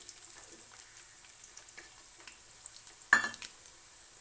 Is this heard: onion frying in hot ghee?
yes